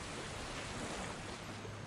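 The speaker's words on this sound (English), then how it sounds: "The waterfall crashed down onto the rock." A waterfall crashes onto rock in a mermaid visual novel game, rendered as a dense, unbroken roar of falling water that holds steady and loud throughout.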